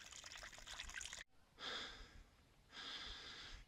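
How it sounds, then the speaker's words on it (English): Heavy, rasping breaths from someone who has just carried wood uphill from a river, two long close gasping bursts separated by a brief pause, with no talking. "Excuse the heavy breathing."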